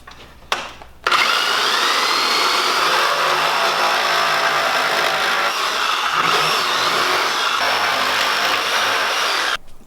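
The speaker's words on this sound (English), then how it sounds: "Now I'm going to use my jigsaw to cut out the shape in the wood" A jigsaw cuts a shape out of a wooden backing board for a house-mounted flag. After a brief click, a loud, steady buzzing whine runs without a break until the end.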